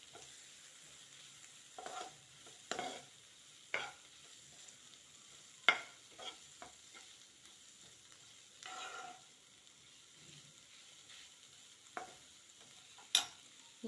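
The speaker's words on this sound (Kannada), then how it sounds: "ಇದು ಚೆನ್ನಾಗಿ ಮಿಕ್ಸ್ ಮಾಡ್ಕೊಳ್ಳೋಣ." Tomato with turmeric powder being stirred and fried in a pan for a carrot palya, a faint steady sizzle broken by repeated scraping clinks of a spoon against the pan at irregular intervals.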